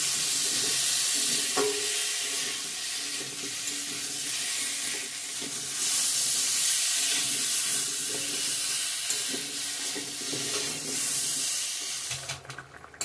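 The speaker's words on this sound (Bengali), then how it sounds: "তারপর পেস্ট করা মশলাটা দিয়ে দিও, দিয়ে কষাবো" Potatoes fry with a ground spice paste in a pan for an egg curry, producing a steady, loud, close sizzle with occasional scrapes of stirring throughout.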